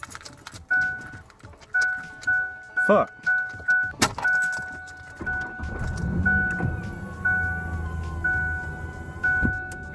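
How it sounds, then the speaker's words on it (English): A pickup truck's starter cranks in a quick run of rhythmic bursts while a door chime beeps steadily. The engine then catches and settles into a low, rumbling idle, and a voice briefly speaks. "I'm going to crank up my truck so I can hear that it runs."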